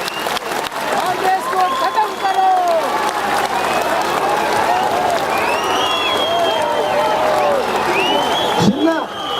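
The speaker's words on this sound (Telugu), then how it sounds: "ఆమోదయోగ్యమైతే చప్పట్లతో ఈ కార్యాచరణకు మద్దతు తెలియజేయవలసిందిగా కోరుతున్నాను" Crowd at an outdoor protest rally applauding in a sustained burst of clapping, with voices and cheers mixed through the noise.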